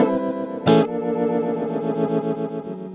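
A Hologram Infinite Jets glitch effects pedal in rhythmic mode chops a sustained distorted guitar tone into rapid, evenly pulsing stutters, with one loud burst early on and no talking.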